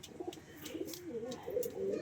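A pair of Giraj pigeons kept as pets coo softly in low, wavering notes, with a faint human voice in the background.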